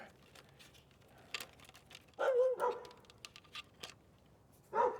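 A dog barks a few times at a distance, short sharp yelps over faint room noise and light tapping.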